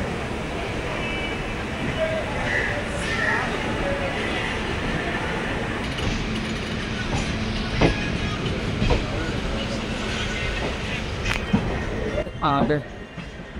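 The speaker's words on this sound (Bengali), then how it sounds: "একদম পারফেক্ট সময় ছেড়ে দিয়েছে আমাদের ট্রেন, 7টা 20-তে ছেড়ে চলে যাচ্ছে এখন শিয়ালদা" A passenger train pulls out of Sealdah station, its steady rolling rumble and clatter running throughout with a brief squeal near the end, while people talk faintly in the background.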